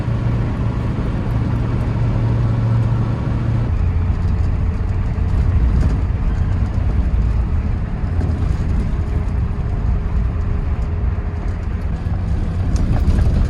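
A $500 Ford F250 pickup with a 6.9 IDI diesel engine idling, a steady low rumble and drone that holds evenly throughout, close and fairly loud, with a slight shift in tone partway through.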